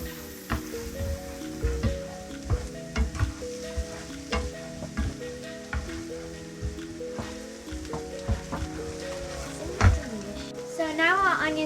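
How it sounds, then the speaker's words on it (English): Onions frying in a pan for shakshuka make a continuous sizzle broken by irregular stirring clacks, close and moderately loud, with a voice faintly audible over the cooking. "So now our onions are cooked,"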